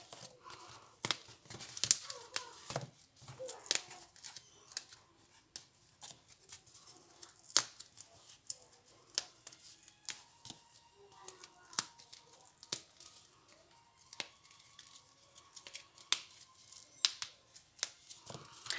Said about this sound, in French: il faut tout d'abord détacher tous nos tampons du support